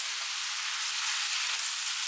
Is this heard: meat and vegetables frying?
yes